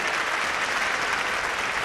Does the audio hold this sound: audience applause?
yes